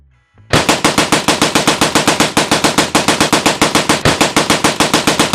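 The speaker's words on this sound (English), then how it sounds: "The Maxim machine gun." A Maxim machine gun fires a sustained, very loud automatic burst, evenly spaced rapid reports hammering on without pause after a brief quiet start.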